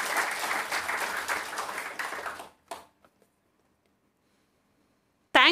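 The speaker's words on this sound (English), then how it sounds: "let us give them a big applause" Applause from an audience at a celebration honouring aspirants and postulants of a religious congregation, steady and full for about two and a half seconds, then dying away to silence, with a sharp loud burst near the end.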